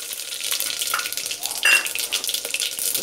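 Whole spices—cardamom, cumin, cloves and bay leaf—hit hot oil with a bright, airy hiss and crackle, fairly close and steady, with a brief sharper spatter partway through.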